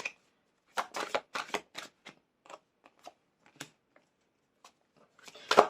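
A tarot deck shuffled by hand: quick bursts of crisp card riffles and soft slaps, close and fairly quiet, with gaps in between and a louder flurry at the end.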